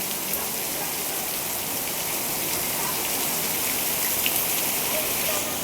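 Heavy rain pours steadily in Manila, a dense, even hiss of drops on surfaces that holds at the same level throughout, with no breaks or talk.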